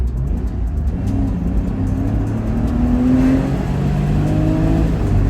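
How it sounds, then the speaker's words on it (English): Porsche flat-six engine revving hard as the car accelerates through second gear, a loud, steady, rising engine drone heard from inside the cabin throughout. "That flat six behind you just makes such a nice noise, it really does."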